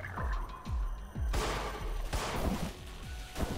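Gunfire in the horror action game In Sound Mind: a rapid series of sharp shots cracks out, several close, punchy reports spaced irregularly over a low rumbling ambience.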